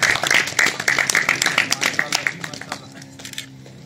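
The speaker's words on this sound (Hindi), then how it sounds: "इनके लिए एक दफा पुरजोर तालियां हो जाए।" An audience at a Kashmir Solidarity Day bike tour gathering claps for a speaker on stage, a dense burst of close applause that fades out over a few seconds.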